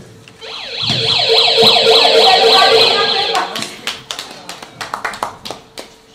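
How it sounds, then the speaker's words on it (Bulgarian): A small homemade electronic circuit plays a police siren sound, wailing in rapid rising and falling sweeps for a few seconds, then cuts off, followed by a series of sharp claps from an audience at a physics show. "Аз изградих електрическа верига със звук полиция."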